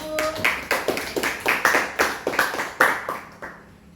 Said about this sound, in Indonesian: Berikan aplaus untuk Ayu.